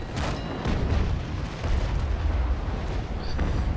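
Ship cannon fire in a Naval Action fleet battle involving the Bellona, heard as loud, continuous booming and rumbling blasts with a few sharper reports, filling the clip without speech.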